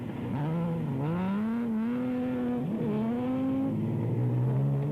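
Off-road race cars at full throttle on a deeply rutted dirt track, engines roaring loud and close with rising and falling revs as they accelerate and shift, continuous throughout.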